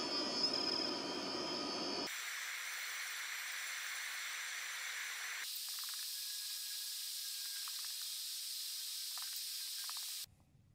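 A ComMarker B4 fiber laser engraving plastic and acrylic gives off a steady airy hiss and whine, shifting pitch in distinct stages before cutting off abruptly near the end, quiet with no voices.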